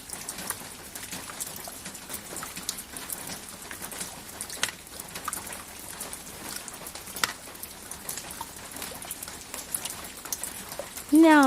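Steady rain falls continuously as a dense, even patter across the whole stretch, with no voices and an occasional faint bird call in the background.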